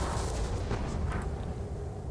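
Artillery in a John Tiller Napoleonic battle game booms in a dense, rumbling barrage, with overlapping dull cannon reports rolling continuously.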